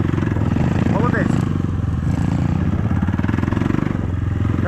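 A KAYO TSD 110 enduro motorcycle engine revs hard while riding through sand during a training session, a loud, steady mid-pitched drone with slight throttle swells and clattering, close to the listener.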